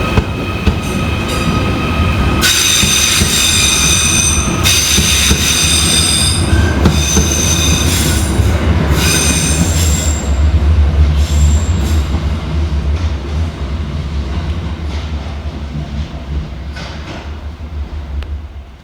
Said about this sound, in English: Arriving next into the station is 777-008 with the 1622 Merseyrail electric service of Liverpool Central to Chester.